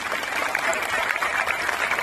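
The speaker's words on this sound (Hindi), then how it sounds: "इनके लिए तालियां बजा दो" Steady clapping from an audience at a religious gathering, a dense, even patter of many hands with no voices over it.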